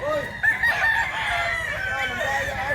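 Several fighting cocks at a farm in Mantalungon, Cebu crow in long, overlapping calls, one after another, loud and nearby with a faint murmur of activity beneath.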